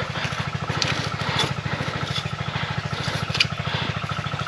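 A motorcycle engine idles nearby in a steady, rapid low throb that runs through the whole stretch, with faint scraping and crackling noises over it.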